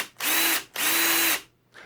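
A power drill bores into a metal Hot Wheels diecast car in two close bursts, each a loud whining buzz lasting about half a second, with a brief start of a third at the end.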